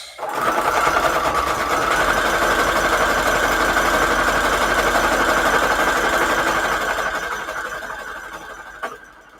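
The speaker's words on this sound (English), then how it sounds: "so next I need my sewing machine here. And I'm going to set this to zigzag stitch." A sewing machine running a zigzag stitch whirs steadily and loudly for about eight seconds at close range, then slows and stops near the end with a brief clack; no one speaks.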